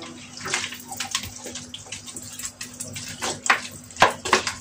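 Tap water runs steadily while fish is washed in a basin with white vinegar, a close splashing wash broken by sharper splashes and clatter near the end, with no talk.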